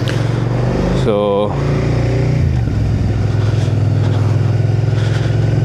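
A Suzuki SV650 motorcycle engine drones steadily while riding through a housing estate, a low constant hum with a short rising rev near the start, as a rider talks over it.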